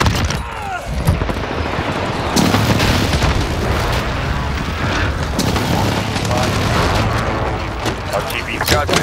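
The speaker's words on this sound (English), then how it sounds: "Precision airstrike available." Precision airstrike explosions during a Call of Duty Modern Warfare team deathmatch on PC. Heavy booms and rolling blasts merge with bursts of gunfire into a dense, loud barrage, with voices calling out over the chaos.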